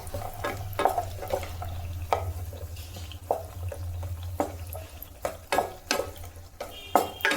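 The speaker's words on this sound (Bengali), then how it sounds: "বড়িটা ভাজা হয়ে গেল" Bori lentil dumplings frying in oil for shukto, with a continuous soft sizzle and repeated scraping and stirring clatter of a utensil in the pan, close and moderately loud.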